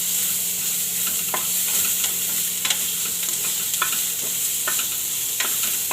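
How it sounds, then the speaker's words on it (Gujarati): Chopped onions sizzle steadily in hot oil with cumin and asafoetida while being sautéed for Rajasthani dal bati, with a constant frying hiss and occasional scrapes of a spoon against the pan. "તો ડુંગળીને એકદમ સરસ આપણે ચેડવવાની છે આને."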